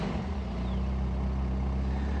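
A Caterham 620S idling with a low, steady burble, close and even for the whole stretch, with no voices.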